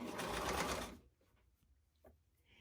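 A sewing machine runs a fast, loud burst of back stitching through plush sherpa fabric for about a second, then stops, leaving quiet room noise with a few faint clicks.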